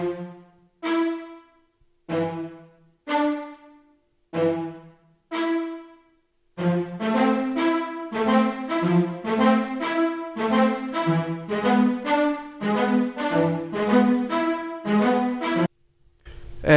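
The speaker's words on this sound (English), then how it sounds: "and I also mixed it up with a second string from Xenology, which is full spiccato." Layered spiccato string presets play short, plucky detached notes, sparse staccato hits at first, then a dense rhythmic run of overlapping bouncing string notes, close and clear with no voices.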